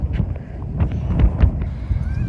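Strong wind buffets the microphone outdoors in Calais, a steady low rumbling roar with gusty swells and scattered thumps throughout, loud and close.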